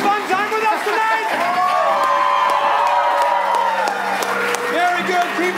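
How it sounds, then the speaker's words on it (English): Cheering, whooping and applause from an audience at a live stage show, a dense crowd roar with shouts rising and falling, while a voice talks over it. "Keep that applause going as we take a very brief intermission"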